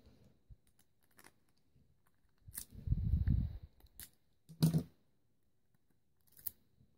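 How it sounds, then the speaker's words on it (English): Scissors snip through a strip of sticky tape for film masking on a photo-resist PCB, several crisp close cuts with one longer crunchy snip in the middle, alone in a quiet room. "just get a bit of sellotape or some kind of sticky tape and just cut it into two bits"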